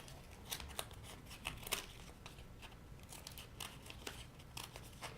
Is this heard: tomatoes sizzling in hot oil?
no